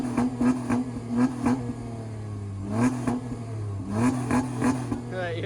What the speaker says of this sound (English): Give it a little rev.